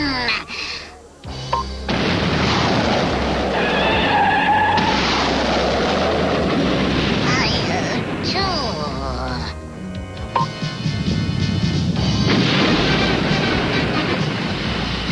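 Cannon fire and explosions in a cartoon battle from Attack of the Killer Tomatoes, loud continuous booming and rumbling blasts with whistling effects, heavy and dense throughout, with voices shouting over the din.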